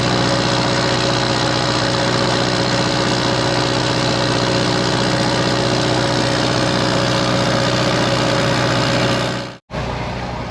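An irrigation pump engine on an Indiana farm runs steadily at a constant idle, loud and close with a continuous vibrating drone, then cuts out abruptly near the end before briefly resuming.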